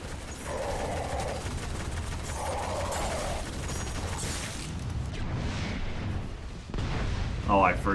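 Rapid automatic fire from a machine gun in the Destiny video game, a dense steady rattle that runs under noisy game action and fades near the end, where a short high tonal chirp cuts through.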